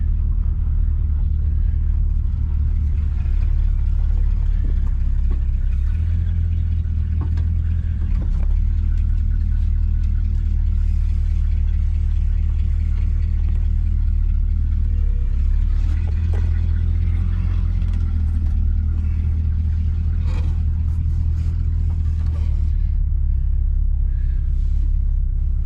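A 1971 GMC 1500 pickup engine idles and runs steadily with a deep, continuous rumble while the truck is turned around, staying close and loud throughout with a few small knocks and clunks.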